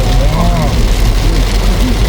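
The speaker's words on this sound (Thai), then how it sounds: "ฝนตกเยอะเลยดูข้างหน้าเนี่ย" Heavy rain drums steadily and loudly, heard from inside a car as a dense, continuous wash, with faint voices beneath it.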